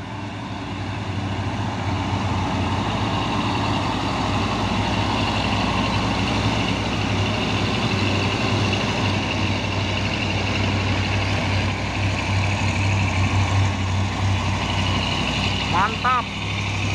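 Heavy truck engines drone steadily in a low rumble as trucks climb a hill, with traffic noise throughout and a brief higher tone near the end.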